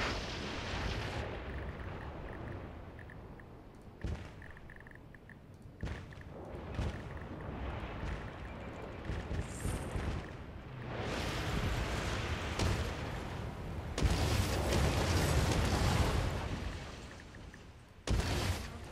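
Demolition bulldozers knocking down abandoned buildings in the SimCity 5 city-builder game, heard as repeated loud booming crashes and rumbling bursts that swell and fade over a sustained noisy bed, with no talk over them.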